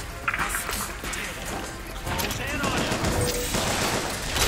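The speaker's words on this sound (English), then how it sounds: "There's more volley guns back there." Volley gun fire in the BioShock Infinite video game, a dense, continuous barrage of gunfire and impacts that grows louder midway, with a voice speaking over the battle noise.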